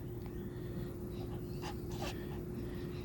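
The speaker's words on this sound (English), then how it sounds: "See my little dog, he's vicious." A small dog pants in quick, steady breaths close by, faint over a constant low hum, with a few soft snorts and no talking.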